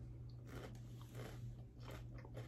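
Chewing and biting on vegan chickpea tuna salad made with beans, with soft wet crunches in an irregular rhythm over a steady low hum, close to the mic.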